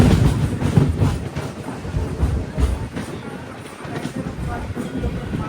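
An Anantapur–Bengaluru MEMU passenger train pulls out of Prasannayanapalli, its wheels clattering and coaches rumbling loudly and steadily from on board, with faint voices in the background.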